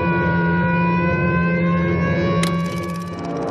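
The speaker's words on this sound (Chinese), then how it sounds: "日军舰艇的桅杆上升起了信号旗，警报声" A steady alarm siren aboard a Japanese warship at the Battle of Midway drones continuously in a sustained, even tone, with a brief sharp burst partway through before it carries on slightly quieter.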